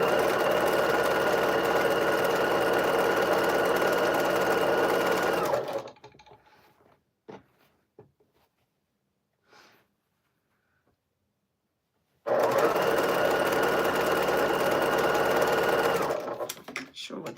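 Sewing machine stitching a quilt in two long runs of fast, steady, loud mechanical whirring, separated by a stretch of near silence with faint clicks and handling sounds, with occasional talk.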